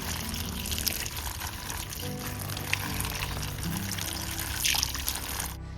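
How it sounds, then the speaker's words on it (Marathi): Wild pevga greens are washed in water, with a continuous pouring, splashing rush and brief sloshing swells as the leaves are handled, close and steady before stopping abruptly. "चला, पहिले ती भाजी धुवून घेऊ की स्वच्छ."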